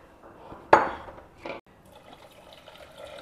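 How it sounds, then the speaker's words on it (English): Vegetable stock poured into smooth carrot puree in a pan for carrot soup, with a sharp splash at the start and a second brief splash, then a quiet liquid trickle and light stirring. "Take it back into your pan and just pouring this stock into it."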